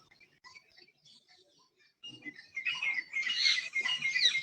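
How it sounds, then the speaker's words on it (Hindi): Partridge calling outdoors during a morning yoga session among other birds: faint, scattered chirps build into a louder, busy chirring burst of calls that continues to the end. "तीतर की आवाज"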